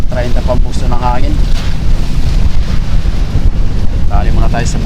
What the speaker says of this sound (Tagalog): Grabe ang lakas oh, nasa 30 pampuso ng hangin.